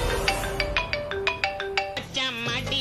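An incoming call sets a mobile phone ringtone going in a Tamil TV serial scene, a rhythmic run of bright electronic beeps that slides into a warbling melodic phrase, loud and close.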